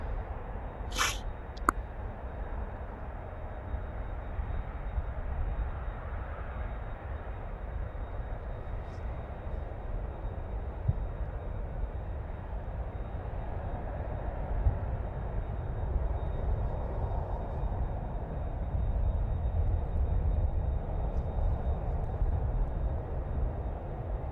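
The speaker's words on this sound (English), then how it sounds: "Now going to Shanghai, this plane will make a right-hand turn shortly" A passenger jet departing Amsterdam Schiphol from runway 36L, a loud, continuous low engine roar that holds steady and swells slightly for the whole stretch, with no talk.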